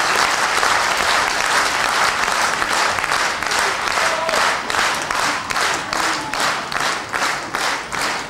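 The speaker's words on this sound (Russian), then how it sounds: "Аплодисменты!" Audience applauding at a children's music concert, a sustained dense roar of clapping that holds loud throughout and turns into rhythmic pulsing claps near the end.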